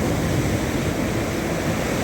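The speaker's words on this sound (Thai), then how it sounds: "แต่ช่วงเช้าทะเลค่อนข้างแรงนะครับ" Sea waves wash onto a beach in Phetchaburi, Thailand, on a rough morning. The surf makes a steady, dense roar with no breaks and no voices.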